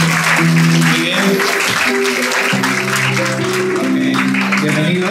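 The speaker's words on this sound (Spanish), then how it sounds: "Que se escuchen esas palmas, por favor." Guests clap steadily at a quinceañera party in Lima, a dense wash of applause over music with sustained low tones, loud and continuous throughout.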